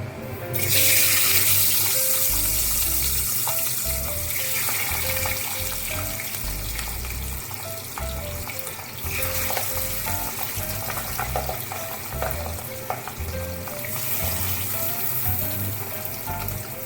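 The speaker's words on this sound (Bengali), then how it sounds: "তেল গরম হয়ে গেছে, এবার এই তেলে আমি মাছগুলো ভেজে নেব।" Pabda fish frying in hot mustard oil in a kadai, a loud continuous sizzle with occasional clinks and crackles near the pan, no talk.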